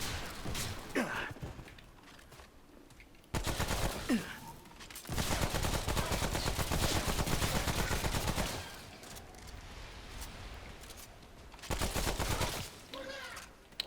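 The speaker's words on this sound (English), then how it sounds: "I'll show you the submachine gun." Submachine gun fire in the shooter game Remnant: From the Ashes, sustained loud bursts of rapid automatic shots in several long volleys separated by quieter stretches with faint movement and breathing.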